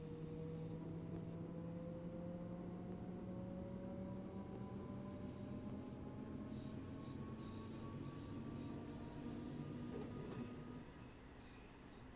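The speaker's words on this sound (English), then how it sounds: "This is a Doomben train, stopping all stations." A Doomben commuter train runs steadily and loudly from up close, its rumble carrying rising tonal whines and faint high wheel squeals throughout, with no voices.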